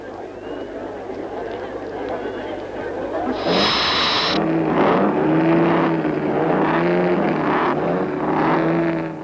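Grand Prix race cars, including the four-car Auto Union team, roar off the line at a straggling start. Engines rise from a low rumble into loud revving as the cars pull away, under a narrator's voice.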